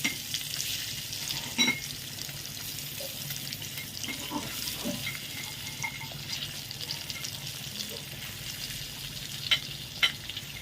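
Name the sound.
egg frying with chili powder and salt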